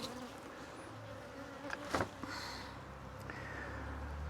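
Honey bees buzzing in an opened beehive, a steady close drone with a few brief louder knocks and scrapes.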